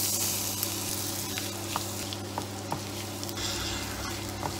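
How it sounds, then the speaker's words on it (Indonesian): Garlic and onion sautéing in a pan give a steady, close sizzle throughout, broken by a few faint clicks of stirring and no voices. "Selanjutnya saya menumis bawang putih dan bawang bombay."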